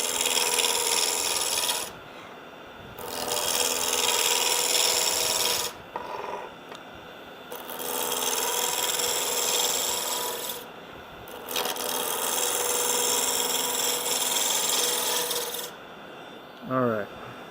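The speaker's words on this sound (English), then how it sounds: "I'm just using the Record rough and gouge." A Record roughing gouge cuts a spinning wood blank on a lathe, producing a loud continuous rasping scrape in long passes broken by short pauses as the tool lifts off the workpiece.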